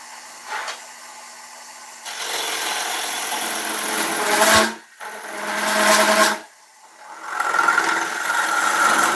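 Wood lathe spinning a 7 x 2 inch ash bowl blank at 815 rpm, a steady mid-level whir with rasping, rubbing texture that swells and drops out briefly twice before resuming.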